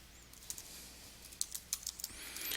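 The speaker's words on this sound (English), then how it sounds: "Oh, no, I have to type correctly." Soft clicking keystrokes on a computer keyboard come in small irregular bursts, faint and close, over a quiet room hum during a physics discussion session.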